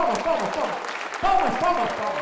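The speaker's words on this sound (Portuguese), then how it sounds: "Palmas, por favor, palmas." Applause from the audience at a Partido Novo political gathering in Uberlândia, a dense patter of clapping that swells twice, mixed with voices talking and calling out over it.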